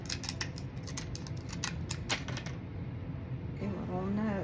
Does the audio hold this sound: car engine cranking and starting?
no